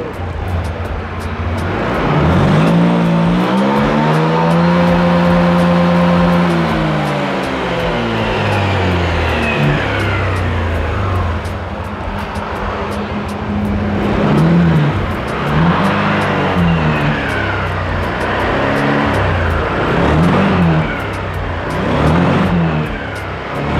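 A Honda Beat scooter fitted with a custom pulley revs its throttle repeatedly, the engine rising and falling in several loud, close bursts of varying length.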